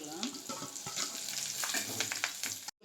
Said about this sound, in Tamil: ஒரு பாத்திரம் வச்சு எண்ணெய் காய வச்சுக்கலாம் கொஞ்சமாக சோம்பு சேர்த்துக்கலாம் கருவேப்பிலை சேர்த்துக்கலாம் வெங்காயத்தை போட்டு வதக்கி